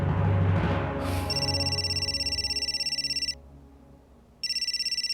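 A phone rings with an electronic ringtone of steady, rapidly pulsing high tones, clear and close. It stops briefly, then starts again over a low music bed.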